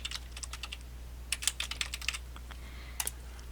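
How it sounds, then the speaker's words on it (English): Keys tapped on a computer keyboard while a name is entered into spreadsheet cells, with quick irregular bursts of clicks, a pause, then a final couple of keystrokes over a steady low hum. "I'm going to type my name again"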